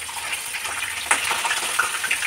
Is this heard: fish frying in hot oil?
yes